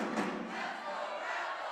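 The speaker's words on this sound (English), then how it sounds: "Listen to how loud the crowd is here for the Rebels" Basketball crowd at a senior women's final roaring loudly for the home Rebels, a dense, sustained wash of cheering and yelling that fills the whole moment without a break.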